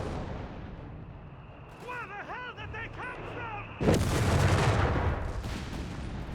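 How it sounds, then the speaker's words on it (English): Anti-tank guns firing on a bunker in the strategy game Company of Heroes 3, with a heavy blast rumbling in partway through under a commentator's voice and other battlefield tones. "Pack bunker being engaged by anti-tank guns"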